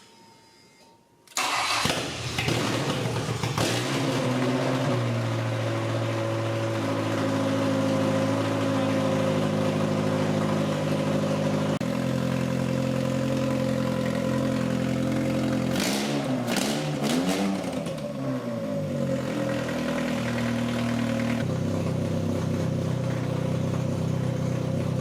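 An old truck engine, a jalopy not run for a year, cranks and catches, then idles steadily and loudly up close with a few brief revs partway through.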